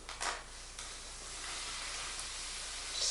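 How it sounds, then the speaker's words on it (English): A pot of noodles boils over on the stove with a loud, steady hiss and sizzle of water hitting the hot surface, close and continuous without any talking. "Just the noodles boiling over."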